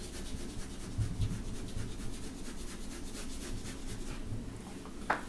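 A pencil shades a cube drawing on paper with soft, steady rubbing strokes, quiet and close, with a few faint taps along the way.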